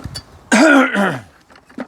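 A harsh, gravelly throat clearing that swells into a rough cough, close and loud, with a couple of small throat noises afterward.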